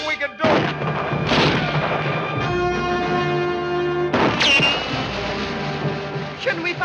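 Heavy gunfire and booming blasts in a film scene aboard a river boat, loud and close, with a dense musical score and shouting voices layered over the shots.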